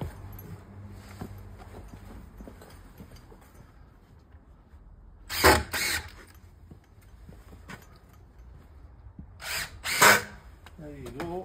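Cordless drill driving into scrap wood while a standard gate is being hung, two short loud whirring bursts several seconds apart over quiet background shuffling and handling noise.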